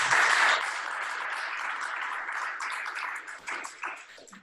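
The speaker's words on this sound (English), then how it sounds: "Let's give her a round of applause first" Applause from a small audience at a Rotary club meeting, loudest at the start and then thinning into scattered claps that trail off in uneven bursts.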